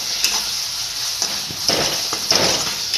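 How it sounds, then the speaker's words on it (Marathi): Tomato chutney with sugar stirred in a pan, a series of soft scraping and sizzling strokes in uneven rhythm, close and fairly loud, with no talking. "हे सगळं हलवून घेऊया आता आपण।"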